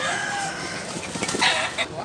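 A rooster, a gamecock in North Cebu, Consolacion, crows once loudly and close, a short strained call over outdoor background noise.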